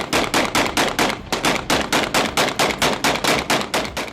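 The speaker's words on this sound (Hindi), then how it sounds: "कुछ इलाकों में जश्न में गोलियां भी चलाई गईं।" Rapid bursts of celebratory gunfire crack out in a steady, evenly spaced rhythm in Syria, loud and continuous, with no voices.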